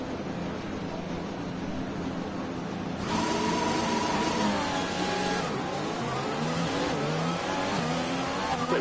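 Simulated Formula 1 car engine from the F1 2020 racing game, a Jaguar Racing team car on the grid in Vietnam, revving hard at the race start with a sharp jump in loudness about three seconds in and rising, shifting engine tones.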